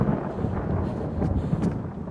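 Steady rain with rumbling thunder from the video game The Quarry, a continuous dense wash of rainfall filling the scene with low rolling thunder swelling beneath it, heard alone at moderate level.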